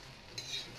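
Moringa leaves are stirred in a hot pan without oil, a brief quiet scrape with a faint dry sizzle, close by and without voices.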